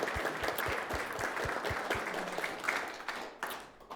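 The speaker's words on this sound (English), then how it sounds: "Let's give Elizabeth a round of applause." An audience at a poetry bookshop oral history event gives a round of applause, a steady patter of many hands at moderate volume that fades toward the end, with a few distinct claps.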